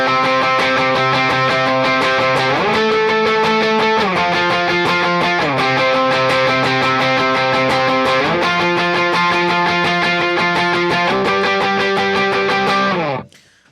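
Loud distorted electric guitar playing big sustained octave chords in a song's bridge that shift every few seconds, ringing steadily before cutting off at the end.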